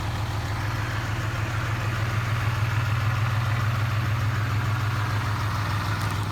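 A pickup truck sits idling with its engine at a steady, even low rumble, close by and unchanging, with no voices over it.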